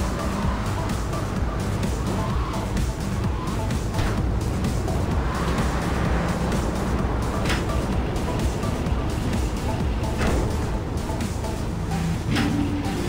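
A car driven through the streets of Grand Theft Auto III gives off a continuous, even roar of engine and road noise that holds steady the whole way, with no talking over it.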